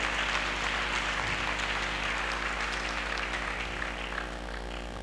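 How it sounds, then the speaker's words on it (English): Steady applause from a crowd at a training graduation ceremony, dense and sustained throughout, with no voices standing out above the clapping. "Can we give a round of applause for that?"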